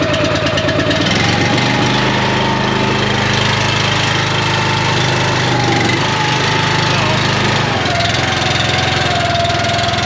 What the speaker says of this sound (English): So what I do is I put 2 hands, just pull very lightly. It will go eventually. Then slowly push the choke.